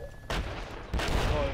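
Gunfire in the video game DayZ, two sudden loud bursts of shots, each followed by sustained rattling noise, close and harsh.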